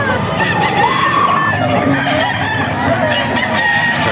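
A gamefowl rooster crows loudly and close at a busy Bocaue market, one drawn-out call over a dense background of other birds clucking and crowing.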